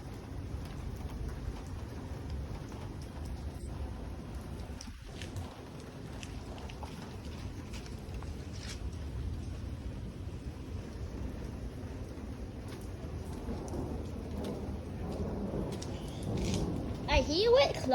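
Heavy rain pouring steadily outdoors with a deep continuous rumble of thunder underneath, dense and unbroken throughout, growing slightly louder toward the end.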